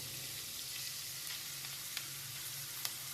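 Ginger garlic paste sizzling with onions in a hot pan for a dry fish curry, a steady close frying hiss with faint crackles and occasional sharp pops, heard alone.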